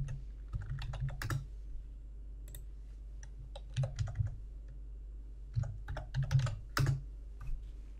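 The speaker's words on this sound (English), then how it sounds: "Then type in a dollar amount." Keys tapped on a computer keyboard while entering a dollar amount in Microsoft Project 2016, with short clusters of crisp, close clicks separated by brief pauses, and no one speaking.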